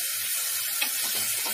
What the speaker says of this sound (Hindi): तो अब इसको हमने गोल्डन ब्राउन होने तक भूनना है।